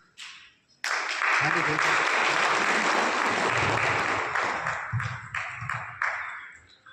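Crowd applause at a Sant Ravidas Jayanti gathering at a Ravidas temple in Muradnagar, bursting in loudly after a brief voice and then sustained, with a few sharper claps and louder swells and a voice briefly heard over it.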